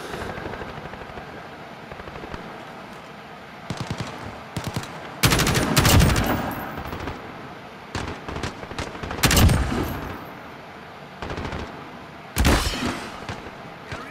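Bursts of gunfire and heavy explosions from the video game Modern Warfare, with sporadic rapid shots and several loud booming blasts separated by quieter stretches.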